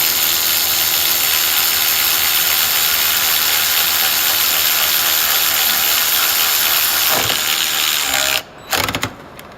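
Mac and Milwaukee cordless ratchets run bolts side by side, a loud steady motor whir with gear grinding that holds for several seconds before cutting off into a few brief clunks.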